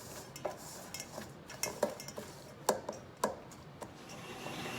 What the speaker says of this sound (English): we're gonna stir it first